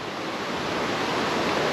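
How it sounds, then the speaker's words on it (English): A waterfall on a forest stream roars as a steady, loud, broadband rush of falling water, continuous with no voices. "there's multiple different waterfalls, but this waterfall is one of the best"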